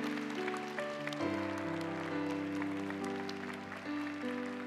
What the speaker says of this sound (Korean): 다시 한번 뜨거운 박수로 이분들 격려하겠습니다.